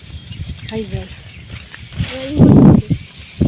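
A cow lows once in a farm field, a deep drawn-out moo rising out of outdoor background noise, with people talking faintly around it.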